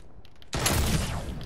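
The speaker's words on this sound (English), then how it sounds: "they're shooting me right in the face and I'm scared about it" Video game gunfire aimed at the player bursts in suddenly as a dense, loud volley after a quiet start and holds steady to the end.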